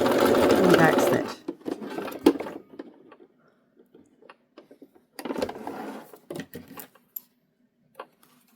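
A sewing machine stitches fabric onto a zipper while making a zipper bag, running in one steady burst at the start, then a few short bursts with pauses and small clicks later on.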